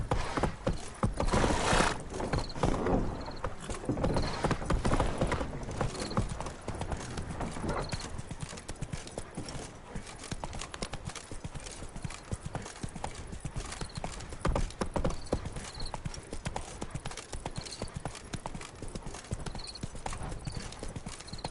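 Roach, a horse in The Witcher 3, gallops with a rapid, steady clatter of hooves that runs the whole time, loudest in a short burst near the start.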